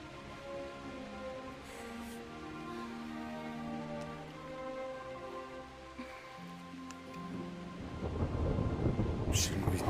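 Thunderstorm with rain in the medieval role-playing game Kingdom Come: Deliverance, a steady wash of rain beneath low rolling thunder that swells into a louder, closer rumble near the end, with a faint voice at times.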